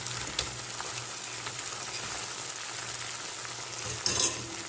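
Continuous crackling sizzle of crispy fried chicken strips frying in a pan, fairly quiet and steady, with a brief louder scrape of stirring near the end.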